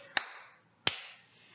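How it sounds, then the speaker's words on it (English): Two sharp hand claps, spaced well apart, each a crisp close slap with a short fading tail, alone in a quiet room. "Clap your hands twice."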